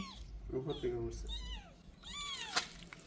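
A kitten meows repeatedly in short, high, plaintive cries, close by, with people talking over and between the calls.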